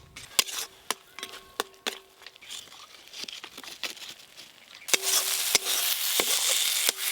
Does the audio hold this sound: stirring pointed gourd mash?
yes